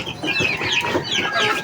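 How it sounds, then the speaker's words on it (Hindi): Chickens and young chicks cluck steadily in a cage, a busy overlapping chorus of short repeated calls close by with no talking. "ये चूज़े दोस्तों शेरू के चूज़े हैं"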